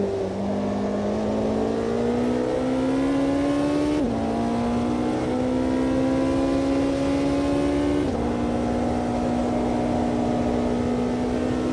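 A Porsche 918 engine accelerating in the racing game AMS2 on a California highway, a loud steady drone climbing in pitch through repeated upshifts, the rise dropping back at each gear change, alone with no talk.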